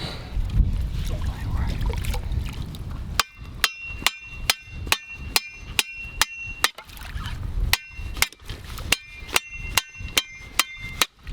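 Steady, sharp hammer blows ring out one after another in a regular rhythm, close and loud, following a stretch of rustling and wind noise.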